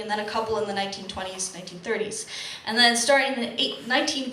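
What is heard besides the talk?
None of the usual background noises is heard.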